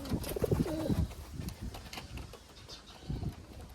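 Pigeons coo close by in a rural setting near a pigeon trap, with low repeated calls in the first second and again near the end, over faint background noise.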